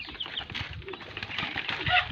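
Wings flap in a quick fluttering burst as pigeons take off nearby, with faint cooing and background voices.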